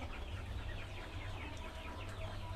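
KUB chickens clucking on a farm, a dense, continuous flock chatter of overlapping clucks and calls with a steady low rumble underneath, no talking.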